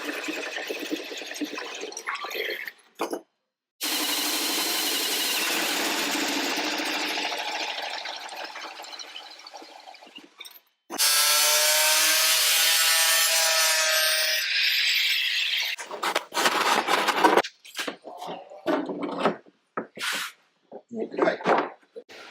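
A blade saws through a polyurethane snorkel for a Land Rover Discovery TD5 in two long, loud, continuous rasping passes, followed by shorter choppy cutting strokes and clicks, with brief pauses between.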